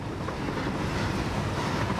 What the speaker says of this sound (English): Hello, Mr. Train.